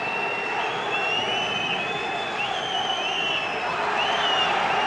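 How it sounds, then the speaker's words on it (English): A boxing match crowd gives a steady, dense roar with high whistles rising over it, heard throughout without a break. "Listen to the crowd."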